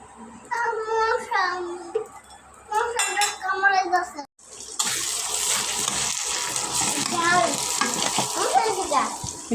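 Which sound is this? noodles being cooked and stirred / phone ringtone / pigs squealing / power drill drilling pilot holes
noodles being cooked and stirred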